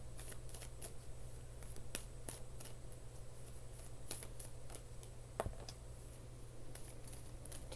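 Tarot cards being shuffled by hand give soft repeated riffling and sharp flicking snaps at an irregular pace, quiet and close over a steady low hum.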